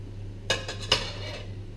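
Two quick metallic clinks of utensils against a plate as caramelised onion is set down for a steak sandwich, close and brief over a low steady hum, with no talking.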